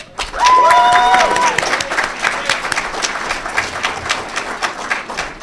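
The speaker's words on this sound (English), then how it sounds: "Ladies and gentlemen, please applaud our 2022 White House Communications Agency Hall of Fame inductee, CW4 Ellen Smith." Audience at an award ceremony applauding a Hall of Fame inductee, a burst of steady clapping that starts loud, then thins into scattered claps, with a brief shout or whistle near the start.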